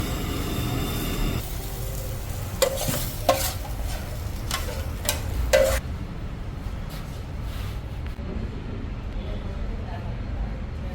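Wai Wai noodles cooking in a pan with egg bhurji and added water, a steady sizzle and stirring scrape running throughout, with a few sharp clinks of a utensil against the pan partway through.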